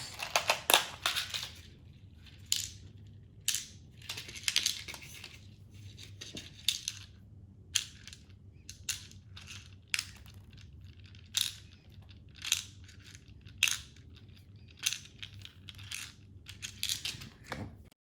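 Small screws from a disassembled Nerf Rampage blaster dropped one after another into a screw box, giving a string of sharp metallic clicks and rattles at irregular intervals, close and fairly quiet, with no talking.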